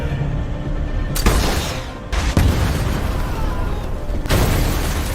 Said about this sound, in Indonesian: sebuah serangan RPG sukses membuat satu mobil pengawal Donovan meledak